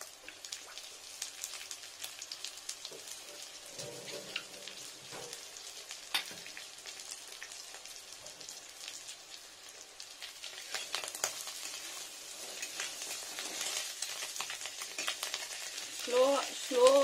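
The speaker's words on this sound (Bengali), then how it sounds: "স্লো টেম্পারেচারে ফ্রেন্ডস বড়াগুলো ভেজে নিচ্ছি ভালো করে" Fish roe fritters fry slowly in oil over low heat, a steady close sizzle and crackle continuing throughout, with occasional faint stirring scrapes and a few louder bursts near the end.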